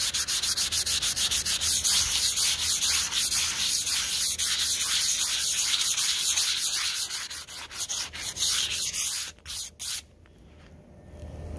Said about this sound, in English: So I've sanded it off as much as I want to.